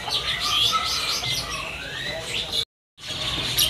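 Many local zebra doves and other caged birds chirp and call continuously at a bird market kiosk, bright twittering close by, cutting to a brief silence near the end before resuming.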